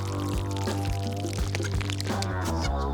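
Liquid soap glugs and pours from a bottle in a short, close stream with irregular bubbly pulses, lasting a few seconds without talk.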